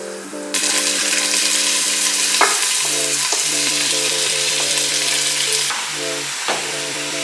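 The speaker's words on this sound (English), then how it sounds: "Now fry your vegetables for about 2 minutes in the pot." Vegetables for a calabash and carrot soup fry in a pot, a loud steady sizzle with stirring clatter and a few scrapes running throughout, with no voices.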